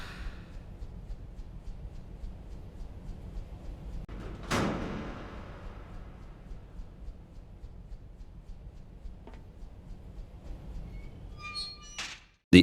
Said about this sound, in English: It was only the door.